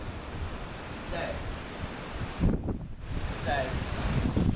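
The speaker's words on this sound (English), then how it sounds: "It's very windy today" Strong outdoor wind buffets the microphone in rumbling low gusts that swell and fade, with a voice speaking briefly over it.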